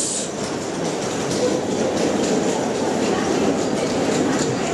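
An underground subway train rumbling past in a station, loud and close, with a continuous roar of wheels and track noise throughout.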